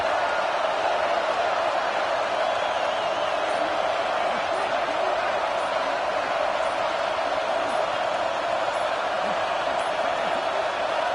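Stadium crowd at a college football playoff game between Georgia and Texas roars steadily, a dense, unbroken wall of noise from the stands during a red zone stand.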